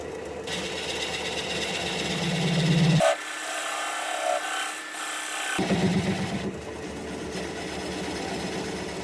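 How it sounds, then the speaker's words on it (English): A 3/8 inch swept-back bowl gouge cuts a wooden bowl on a lathe, making a close, loud scraping and rasping hum. The cut breaks off into quiet for a couple of seconds in the middle, then the steady cutting resumes. "Now I'm going to switch to a swept back bowl gouge, 3/8 inch."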